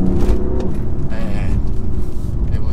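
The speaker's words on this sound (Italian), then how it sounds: "Acceleriamo un pochino." BMW M coupe, an M4 or M2, pulling under hard throttle with a steady, loud engine and road drone. Voices talk throughout over the car noise.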